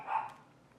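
A single short, muffled dog bark, faint and somewhat distant, fading quickly into quiet.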